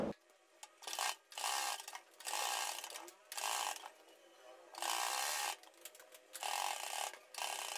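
A sewing machine stitches a neck patch onto a kurti, running in bursts of steady, rapid stitching separated by short pauses, close and fairly quiet with no talk.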